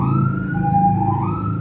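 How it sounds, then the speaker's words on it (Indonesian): An ambulance siren wails steadily as it passes along a road, with a rising and falling tone over the hum of traffic. "Wah, ada ambulans, teman-teman."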